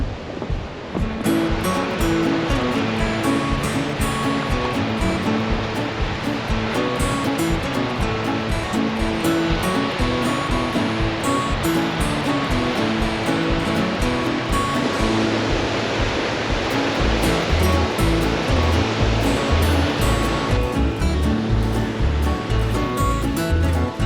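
Ocean waves roar onto the beach near a campsite, a loud, continuous crashing surf with repeated surges and heavy low rumble that fills the whole stretch, with no talking heard.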